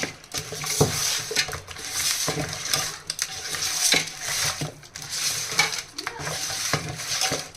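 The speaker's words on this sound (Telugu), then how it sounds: "మొత్తం మిక్స్ అయ్యే విధంగా ఒకసారి కలుపుకోవాలి." Biryani meat being stirred with turmeric and spices in a pot, repeated scraping and clanking strokes of a spoon against metal in an irregular rhythm, close and fairly loud, with a faint sizzle beneath.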